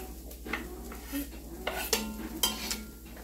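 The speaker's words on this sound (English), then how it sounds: "put my burger in here with chopped onion" Ground beef and chopped onion cooking in a pot for chili, with a spoon stirring and scraping against the metal in a few soft clinks over a faint sizzle, close and quiet.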